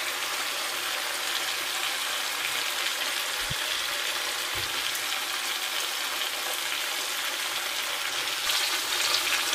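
Spices frying in oil for a round lemon pickle make a loud, continuous sizzle and hiss close up, with a couple of brief low thumps of stirring and no speech.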